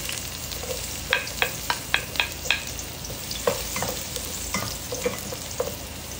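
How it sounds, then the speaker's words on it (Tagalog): Onion, garlic, tomato and ginger sautéing in a pan, with a steady sizzle under a series of sharp, rhythmic scrapes and clicks of a spoon stirring against the pan, close and fairly loud. "Ayan, igigisa na natin."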